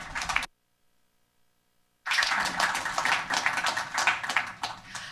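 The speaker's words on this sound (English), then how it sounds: "So a round of applause, please." An audience at a web technology panel talk claps, a brief burst that cuts to silence for over a second before a fuller, sustained round of applause resumes.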